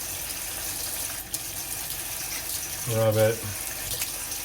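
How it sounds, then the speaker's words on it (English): Tap water runs into a sink while Minimoog parts are rinsed, a soft, steady flow that swells briefly near the end, with someone speaking quietly over it. "All right, so now we're at the sink. I'm just gonna rinse this off like it says to do."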